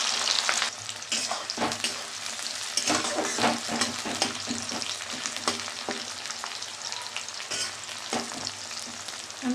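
Two large onions fry and sizzle in a pan as the base for a chicken curry, a steady close crackle with occasional stirring scrapes throughout.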